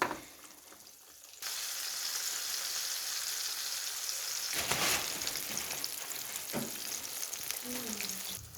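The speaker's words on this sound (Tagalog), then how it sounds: "nagprito ako ng isda" Fish frying in a pan for crispy fish, a steady broadband sizzle that starts abruptly and continues loud and close, with a few brief stirring clatters and a faint bubbling warble near the end.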